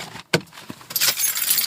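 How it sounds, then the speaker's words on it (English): Keys jangle in quick metallic bursts, close and loud, with a sharp clink followed by a longer rustling shake. "It's my keys."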